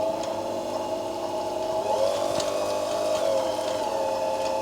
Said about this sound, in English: it'll stretch the bobbin thread as it's winding onto the bobbin